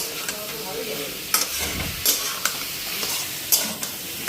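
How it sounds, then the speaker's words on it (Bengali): Soybean chunks fry with spices in a pan, a close, steady sizzle broken by several sharp scraping stirs at uneven intervals, with no speech. "আজকে না সয়াবিনটা একটু মশলাটা দিয়ে ভেজে নিলাম"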